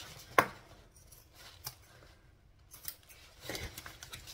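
Scissors trim fabric corners while sewing a bag, giving several sharp, close snips spaced a second or so apart over a quiet room background.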